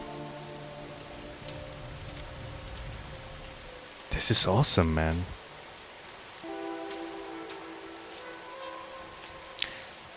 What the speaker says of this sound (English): It is probably raining, permanently raining on this planet.